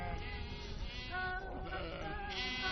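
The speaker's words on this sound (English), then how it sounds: "tending to their sheep and horses" Sheep from a Kazakh nomads' flock bleating near water and grassland, one or two drawn-out wavering bleats overlapping, fairly close and clear, for a few seconds.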